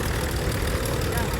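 A vintage Marshall tractor with a factory-fitted diesel engine idling nearby, a dense, continuous rumbling chug with talking over it.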